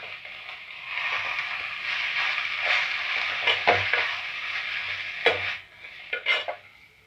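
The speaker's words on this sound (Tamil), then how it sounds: "இந்த கீரை வெந்து வர நம்ம கேஸை மீடியம் ஃப்ளேமில் வச்சுட்டு வதக்கி விட்டுட்டே" Drumstick leaves stirred and sautéed in a pan over a medium gas flame, with a steady close sizzle broken by scraping strokes and clinks of a spoon against the pan.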